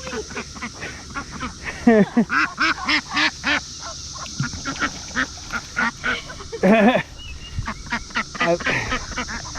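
Newly moved ducks on a homestead pond quack in rapid bursts, close and loud, with a person talking in between.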